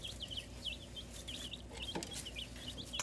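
Chicks in a small brooder box under warming lights give repeated quick high cheeps and soft clucks, close and fairly quiet, with faint rustling and a couple of light taps.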